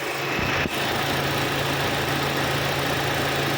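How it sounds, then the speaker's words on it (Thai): A 2017 Toyota Altis 1.6G engine idling loudly and steadily nearby, a constant low rumble with an even hum and no voices. "เดี๋ยวมาฟังเสียงเครื่องกันดู"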